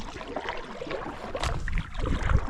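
A Bonafide XTR130 kayak paddled on open water in light wind: soft splashes and paddle strokes sound close by, mixed with wind rush over the microphone.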